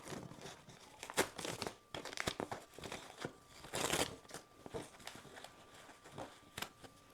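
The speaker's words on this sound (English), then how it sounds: "since this is tear away, we're just going to tear it away" Tear-away embroidery stabilizer backing being ripped off a freshly embroidered cap: close, irregular bursts of papery tearing and crinkling that come in quick clusters with short pauses between them.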